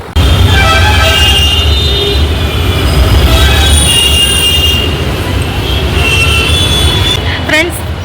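A metro train rumbles loudly along the rails with metallic wheel squeal and a brief toot near the end, voices faint underneath.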